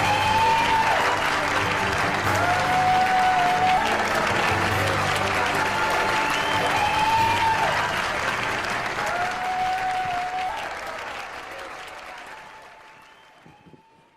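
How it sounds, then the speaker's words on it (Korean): Big crowd applause at a South Korean political rally as presidential candidate Lee Jae-myung takes the stage. The loud, sustained clapping runs under music and fades out over the last few seconds. "큰 박수로 맞이해 주시기 바랍니다"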